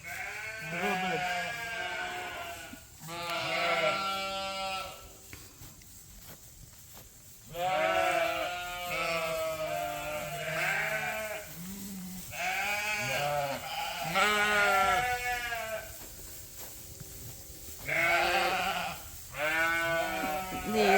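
Ewes bleat repeatedly on a sheep farm, several loud, wavering calls near and far in irregular bursts with quieter pauses between.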